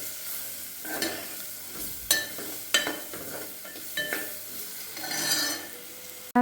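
Pasta masala fries in oil in a pan with a low, steady sizzle, punctuated by several sharp scrapes and clinks of a spoon stirring against the pan. The sound is close and quiet, with no voices.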